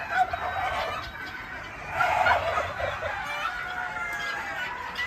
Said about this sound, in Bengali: মুরগির প্রচুর সাউন্ড।